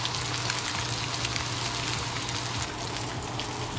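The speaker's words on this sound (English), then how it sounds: "I'm gonna let that sizzle to a golden brown." Spotted trout fillets frying in a pan, giving a steady, dense sizzle that stays loud and even throughout, with no talking.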